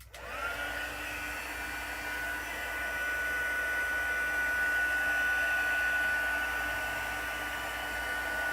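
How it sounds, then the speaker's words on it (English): A heat gun blows steadily for several seconds, a close, even hiss-and-whir that starts abruptly and holds without pause. "Heat gun warning."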